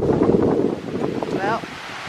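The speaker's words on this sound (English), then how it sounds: "I didn't know it was going to be this windy today." Strong wind gusts buffet the microphone outdoors on a blustery day, a steady loud roar with rustling that runs through the whole stretch, while a voice talks faintly beneath it.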